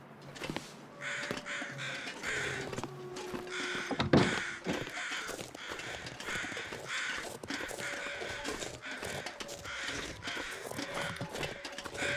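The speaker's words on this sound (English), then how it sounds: "I wanted to get the crows in this archway and that building right there." A group of crows cawing near an archway in a video game, harsh repeated caws in quick bursts throughout, fairly close and loud, with no talk.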